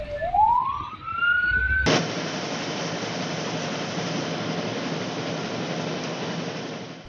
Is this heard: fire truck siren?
yes